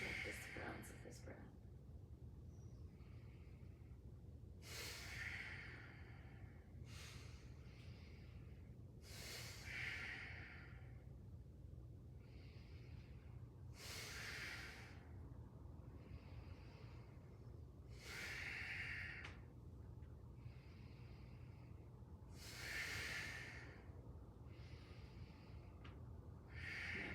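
Yoga breathing practice: rhythmic sharp, forceful nasal breaths recur every few seconds in a steady pattern, close and fairly faint over a low background hum, with an instructor speaking softly between them.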